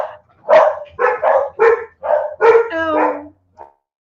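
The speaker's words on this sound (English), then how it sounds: "And my dogs decide to bark, of course," Several dogs bark in a quick series of about seven loud, close barks, some with a whining, tonal edge, followed by a lone faint yip at the end, with no talking.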